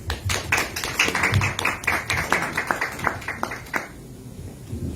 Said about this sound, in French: On accueille l'ambassadeur, on applaudit.